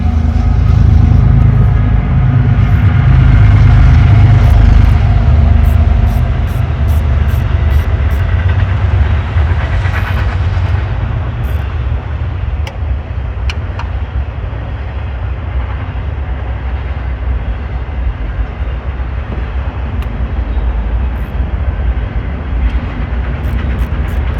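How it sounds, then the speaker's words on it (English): A train rumbles past continuously and loudly, a broad roaring wash of rail noise that swells early and slowly eases, with faint clicks and ticks of wheels over the track and no talking. "Here comes the train."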